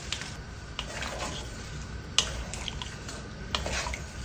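A spoon stirs beef with onion and seasonings in a cooking pot, a soft sizzle and shuffle broken by a few light clinks against the pot. It is close and fairly quiet, with no talking.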